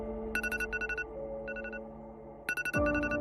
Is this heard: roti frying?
no